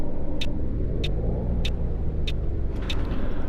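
A coach bus in Fernbus Simulator pulls away after its parking brake is released, with a steady low engine rumble and road drone throughout, broken by a series of short, sharp high clicks at regular intervals.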